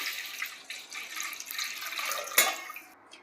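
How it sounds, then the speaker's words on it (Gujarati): Milk being poured into a pot already rinsed with water, a soft continuous liquid trickle and splash, fairly quiet, with a small clink partway through. "હવે આપણે દૂધ નાખી દઈશું તપેલીમાં."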